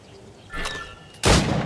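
Two gunshots at practice targets in Assassin's Creed Rogue, a lighter ringing shot followed by a louder, sharp blast with a lingering tail, no talk.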